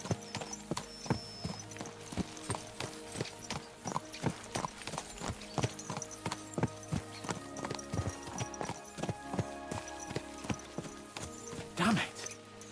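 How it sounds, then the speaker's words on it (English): Horses clip-clop at a steady gallop through the medieval game Kingdom Come: Deliverance II, with rapid, close hoofbeats running throughout, occasional whinnies and a spoken voice over the rhythm. "Let's really spur these horses on, eh?"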